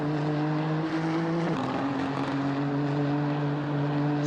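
GT3 race cars lapping Sepang in a video game, a steady loud engine drone with strong harmonic lines that dip and shift pitch mid-way as a car changes gear, continuous with no talk.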